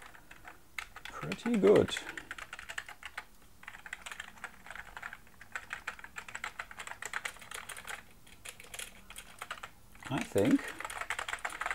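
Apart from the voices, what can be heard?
typing on a Sinclair ZX Spectrum+ keyboard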